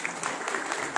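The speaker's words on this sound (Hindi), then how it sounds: "थैंक यू सो मच, जोरदार तालियां इनके लिए।" An audience applauds at a business stage event in India, a brief burst of steady, dense clapping from a crowd.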